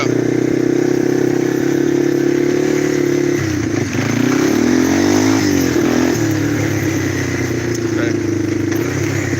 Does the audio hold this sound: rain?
no